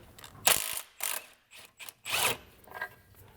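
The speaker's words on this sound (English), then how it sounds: "This rearward locating bolt for the subframe is 18mm. We'll just go ahead and pull that out entirely." A hand ratchet clicks in short bursts while loosening an 18mm rear subframe locating bolt on a BMW 135i with the N55 engine, five or six separate ratcheting strokes close up with pauses between them.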